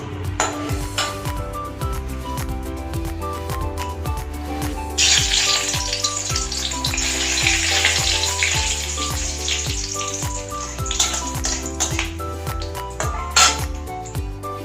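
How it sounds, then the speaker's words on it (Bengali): Green chili frying in oil in a pan, a continuous sizzle with clinks of utensils against the pan, the sizzle flaring brighter and louder midway and then settling. "লঙ্কাটাকে আমি ভেজে নেব।"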